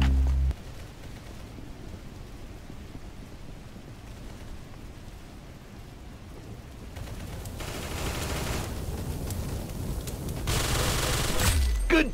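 Gunfire in the Roblox shooter Arsenal on PC, with rapid bursts of shots that crackle through a dense, rain-like wash of noise and grow louder and more intense toward the end.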